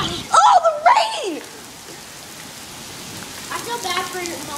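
Heavy rain pours down in a giant thunderstorm in Colorado, a steady hiss of drops on surfaces. Excited voices talk loudly over it at first, then the rain carries on alone with faint voices near the end.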